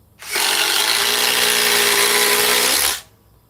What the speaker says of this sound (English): let me try this one with the Ryobi